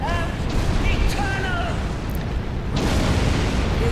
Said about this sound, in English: Oh, that was a nice explosion at the end.